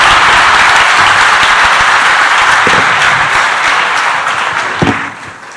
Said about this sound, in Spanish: les pido un aplauso a ellos